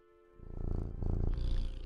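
A cat purrs close by, a low continuous rumble that swells in after a quiet start and holds steady to the end.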